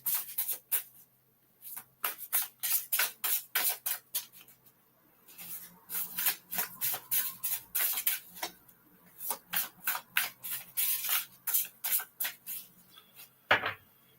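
A deck of tarot cards being shuffled by hand, giving rapid bursts of riffling and soft card slaps in an irregular rhythm with short pauses. It is close and fairly quiet, with no talking.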